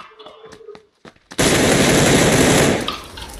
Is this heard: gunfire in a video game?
yes